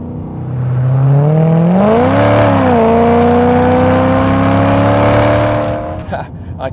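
A 1996 Aston Martin V8 coupé engine revs hard under acceleration, its loud rising drone climbing steadily, dipping briefly around a gear change, then holding high before easing off near the end.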